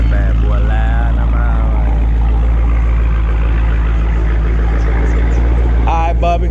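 The loud exhaust of a Dodge Charger SRT with a 6.4L engine and 5-inch tips drones in a heavy, steady low rumble throughout. Voices speak briefly over it at the start and end.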